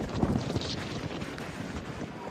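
Blustery wind buffets the microphone outdoors at Celebration Key, a cruise port, as a steady rumbling roar with gusty swells and no clear talk.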